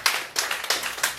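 An audience at a poetry reading in a living-room venue claps in several quick bursts, close and lively, with no voices.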